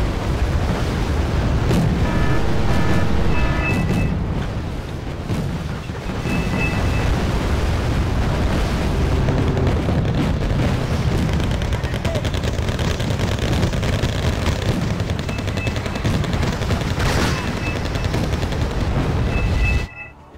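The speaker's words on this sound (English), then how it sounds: "they're firing in some heavy, very heavy artillery" Heavy artillery fire and explosions thunder in the Wargame war video game, a dense, unbroken rumble of blasts and booming impacts with a few faint tonal beeps over the top.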